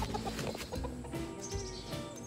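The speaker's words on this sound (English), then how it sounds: "So we have got the ultimately rude chicken, Mr. Rooster." Chickens clucking and a rooster calling close by, several overlapping bird sounds over steady background noise.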